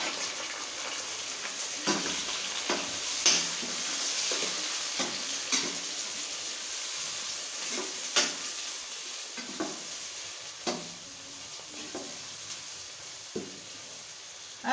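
Ginger garlic paste sizzling in a frying pan with moong dal, a continuous close hiss broken by intermittent scrapes and taps of a spoon stirring against the pan, no voices.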